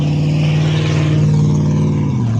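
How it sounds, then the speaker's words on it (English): A loud truck engine idles high and revs steadily, its low rumble holding at one pitch before dropping slightly near the end, close and alone with no talk. "I'm gonna get this loud truck."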